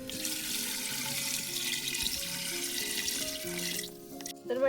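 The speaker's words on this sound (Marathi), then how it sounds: "त्यात पाणी टाकून घेते" Water pours steadily into a clay pot of village-style chicken curry with onion-coconut gravy, a continuous close splashing stream that stops near the end, followed by a brief clatter.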